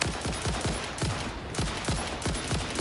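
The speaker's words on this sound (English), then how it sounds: "Oh nice, I can shoot too." Hip-fired player gun in Satisfactory, shots cracking out in a steady, evenly spaced rhythm with short echoing tails, moderately loud and alone.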